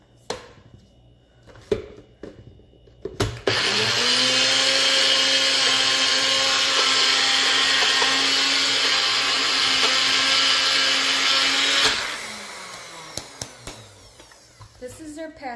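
A countertop blender whirs loudly and steadily for about eight seconds, blending cucumber pate with lemon juice, starting abruptly and cutting off, with clattering handling noises before and after.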